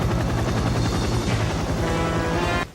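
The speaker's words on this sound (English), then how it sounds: "The helicopter comes to check on them" A helicopter thunders close by, its rotor chopping in a fast, loud, steady pulse that cuts off abruptly at the end.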